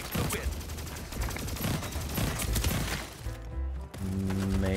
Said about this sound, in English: give me the burst rifle again